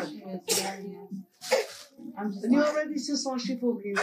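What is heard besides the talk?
sneeze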